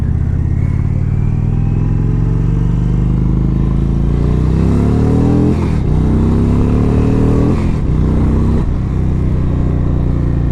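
A 2017 Indian Springfield bagger motorcycle engine drones steadily while being ridden, a loud, close rumble that rises in pitch through the gears with a couple of brief dips at shifts.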